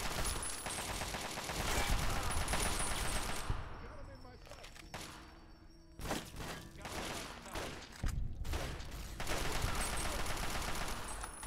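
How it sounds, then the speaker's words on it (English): Rapid bursts of gunfire in the video game Fallout, from enemies armed with shotguns, come in dense volleys that break off into brief gaps, with scattered thuds and short pauses, then resume loud and continuous. "They all have fucking shotguns."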